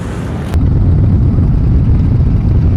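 Motorcycle engines roar loudly, kicking in abruptly after a brief moment at a group ride in Mississippi, and hold a deep, rumbling idle with no talking.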